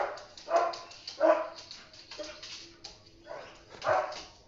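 A dog indoors lets out a few short, muffled barks and whining whimpers in separate bursts, fairly distant and soft, with quiet pauses between them.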